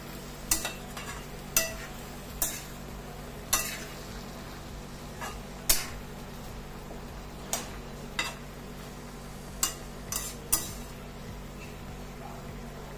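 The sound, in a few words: stirring grated ginger into a cooking dish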